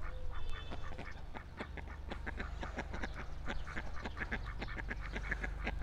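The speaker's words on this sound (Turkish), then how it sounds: "bunlar ördeklerimiz." Many ducks quack in a busy, overlapping chorus, steady and fairly close, with a low rumble of background noise underneath.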